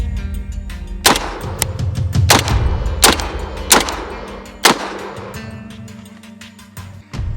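An ATI Bulldog bullpup shotgun firing birdshot, about six loud sharp blasts spaced roughly a second apart, close up with echoing decay between shots.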